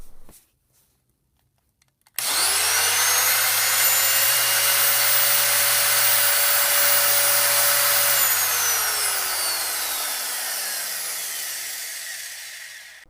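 Restored 1980 AEG KS1.6 sheet metal shear test run with the blades removed, starting abruptly after a quiet click, then a loud steady motor whine and hum that gradually winds down as it shuts off.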